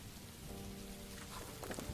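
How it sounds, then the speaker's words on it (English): Steady rain patters in a video game, a dense hiss of drops hitting surfaces with no talk. "Rain was a little too loud."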